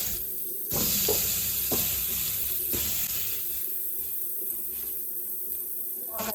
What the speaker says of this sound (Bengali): এবার আমি আলুগুলোকে ওই তেলেই ভেজে নেব।